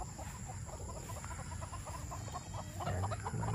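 Late-bird gamefowl chickens in a cording and breeding area cluck in short, repeated bursts, several birds close by and moderately quiet, with farmyard background hum and no talking.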